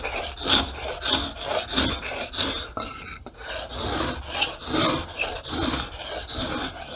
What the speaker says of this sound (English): I'm going to scrape it in 2 different directions. Takes all that roughness right off the board.